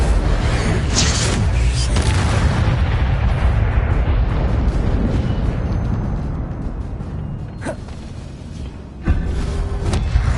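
A fire spell cast in a video game, heard as loud, dense crackling and rumbling blasts with sharp bursts scattered through and a final pop near the end.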